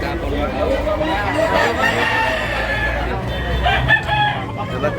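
A medium-sized, buyugon-colored rooster crows loudly and at length at a fowl sale, with faint crowd babble underneath.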